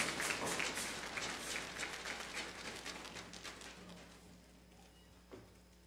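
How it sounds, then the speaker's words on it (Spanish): Audience applause at a regional oratory contest final in Los Santos province, Panama: a dense wash of clapping that starts full and gradually thins and fades away over several seconds. "Fuerte el aplauso para la Autoridad Marítima de Panamá"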